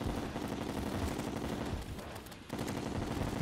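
A fireworks display in the Terraria video game makes a dense, rapid crackle of bursts that runs nearly without a break, dipping briefly before resuming.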